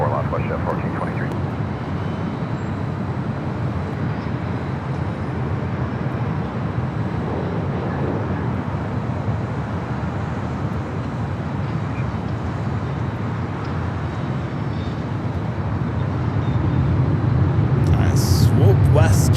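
A jet airliner rumbles steadily on runway 24 Left at LAX, a broad continuous roar that builds toward the end as it rolls for takeoff, with faint radio chatter underneath.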